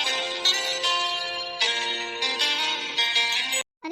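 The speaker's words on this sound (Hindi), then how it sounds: "लगता है किसी का फोन आया है।" A phone rings indoors with a melodic ringtone, its bright tonal phrases repeating in bursts before stopping suddenly near the end, with no voices over it.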